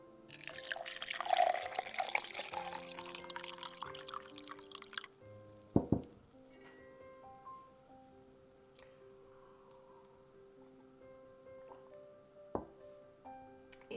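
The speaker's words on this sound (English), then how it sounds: "Let's pour into my glass." Homemade mint lemonade with lemon, apple, orange and lime juice is poured into a glass. A splashing pour fills the first few seconds, then gives way to quiet drips and a few faint clinks.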